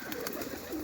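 Pigeons cooing close by, a short soft burst of low, throaty coos.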